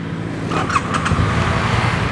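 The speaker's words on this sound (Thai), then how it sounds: "เดี๋ยวเรามาฟังเสียงท่อคันนี้ก่อน" A 2017 Triumph Bonneville T100 Black motorcycle on its stock exhaust, idling with a steady low rumble close by and no talk over it.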